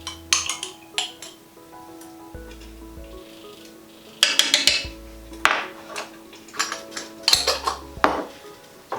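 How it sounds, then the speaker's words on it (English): A spoon stirs and clinks against a pot of chilli con lentil thickened with tomato puree, giving irregular metallic taps and scrapes, close and fairly quiet, with no talking. "So again, just stir that."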